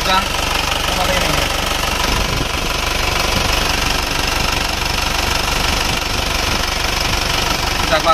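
A smoking Isuzu Panther diesel engine runs with a loud, steady clattering knock, close and continuous, while someone talks over it.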